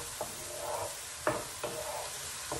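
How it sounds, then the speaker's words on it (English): Mushrooms and onions sauteing in butter for keto beef stroganoff, a continuous close sizzle broken by a few sharp scrapes of a utensil stirring the pan, no voices. "I'm gonna cook this down for a little bit, continue the breakdown of the mushrooms, let the onions caramelize a little bit"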